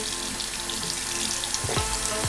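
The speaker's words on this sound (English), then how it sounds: "run my fingers through the bristles just to make sure the water is getting in there" Water runs steadily from a tap over makeup brushes as fingers work through the bristles, a constant close hiss with a couple of brief splashing swishes near the end.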